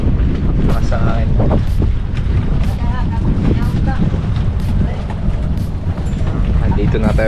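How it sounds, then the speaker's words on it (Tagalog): Strong wind buffets a boat arriving at Barracuda Lake in Palawan, a loud, continuous roaring rush of gusts against the microphone that fills the whole stretch, with faint voices mixed underneath. "Lakas ng hangin."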